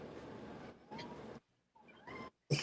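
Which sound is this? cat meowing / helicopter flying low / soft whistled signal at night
cat meowing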